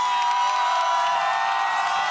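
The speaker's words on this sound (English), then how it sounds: "The crowd goes wild." Crowd cheering at a college gymnastics meet between Air Force and Clemson, a steady loud roar of voices with whoops sustained throughout, right after a stuck landing on the bars.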